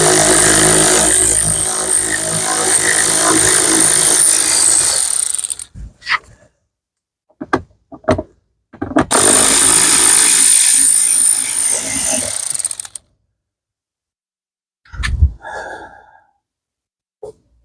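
A power tool backing out door panel screws on a 2015-2019 Ford F-150, two long loud whirring runs separated by quiet, with soft breathing and small handling noises between them.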